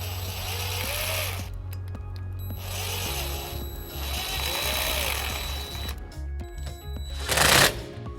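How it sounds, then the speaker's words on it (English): A 5/16 socket tightens a clamp during wiring work on a 2021 Nissan Titan, making repeated buzzing bursts from a powered driver separated by short pauses, with a sharper rattling burst near the end. "we're going to take a 5/16 socket and we're going to tighten up this clamp"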